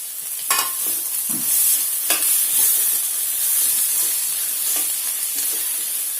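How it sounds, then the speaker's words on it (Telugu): Peas and cauliflower stir-fried together in a pan for a curry, a steady bright sizzle with scattered scrapes and clinks of a spoon stirring, close and continuous with no talking. "వేసేసుకొని రెండు కలిపి వేయించుకోవాలి"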